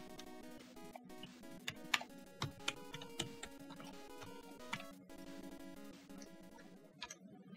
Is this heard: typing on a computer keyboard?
yes